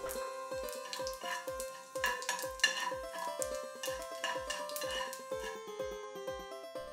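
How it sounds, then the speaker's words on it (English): Cumin seeds and a pinch of turmeric powder fry in a pan as a spoon stirs them, steady rhythmic scraping strokes about twice a second over a light sizzle, close and moderately quiet, with soft music-like tones behind. "Stir well."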